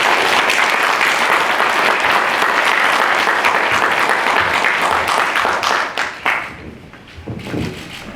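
A forum audience in a Korean lecture hall gives loud, sustained applause welcoming a guest speaker. Dense clapping stays strong for about six seconds, then thins to scattered claps and fades.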